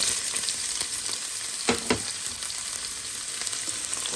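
Onion frying in hot oil in a pot gives off a steady, close, bright sizzle, with a couple of short stirring clatters near the middle and no voices.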